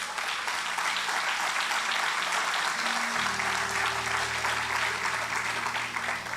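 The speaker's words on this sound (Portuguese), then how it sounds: "Quem crê nessa palavra pode dar um forte aplauso ao Senhor Jesus" A church congregation applauds during a Portuguese-language sermon, a dense, steady wash of many hands clapping for the full stretch. A low sustained organ or keyboard tone enters partway through beneath the applause.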